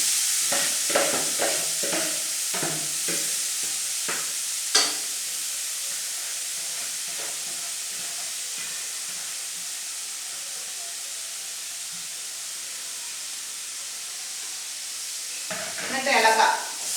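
A spatula scrapes and stirs grated beetroot and carrot with coconut, green chilli and curry leaves for a Kerala-style thoran, several quick strokes at first, then a quiet hiss, with a final burst of stirring at the end.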